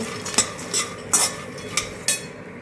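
Peanuts roasting in a pan are stirred with a metal utensil, giving five or six sharp, close clinks and scrapes at uneven intervals over a faint background, with no talking.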